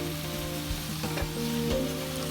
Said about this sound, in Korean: 양파, 양배추, 당근, 애호박 등을 넣고 한 번 더 볶아줍니다